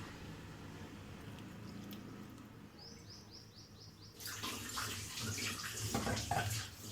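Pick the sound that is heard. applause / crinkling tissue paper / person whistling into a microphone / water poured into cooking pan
water poured into cooking pan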